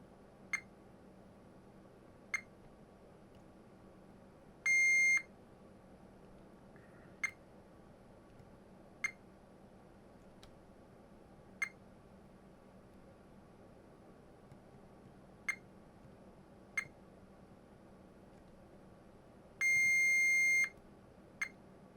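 A multimeter on continuity mode tests the MOSFETs of a NAD D 3020 hybrid digital amplifier for shorts. Faint, sparse clicks from probe contacts recur every couple of seconds, and two sustained electronic beeps stand out above a quiet hiss.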